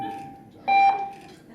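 A timer goes off in a press conference room, sounding one short, bright electronic beep that stands out loudly over a quiet background.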